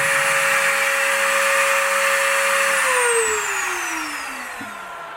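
Katsu mini bench drill motor whining at top speed, about 32,000 RPM, a loud steady high-pitched tone that then slows down, its pitch falling as it spins down.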